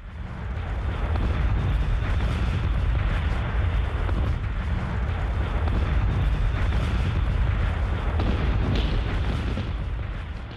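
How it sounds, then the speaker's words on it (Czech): French cannon fire opening the Battle of Borodino, a dense continuous rumble of massed artillery booming and rolling for the whole stretch, loud and sustained with no talk. "Boj zahajuje rána z francouzského děla. V zápětí se ozve dalších 1200 výstřelů."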